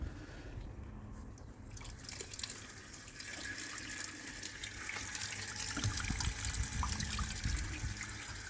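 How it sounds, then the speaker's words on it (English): A tap on mains water, fed through a rainwater tank pump setup, runs as a steady soft trickle and splash that grows slightly fuller toward the end, faint and continuous with no one speaking. "Just might need to turn the tap on a bit more."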